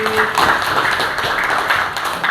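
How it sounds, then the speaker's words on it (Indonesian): A class of students applauding a classmate after a presentation, a dense wash of many hands clapping together, steady and fairly loud in a room. "tepuk tangan buat Taufik"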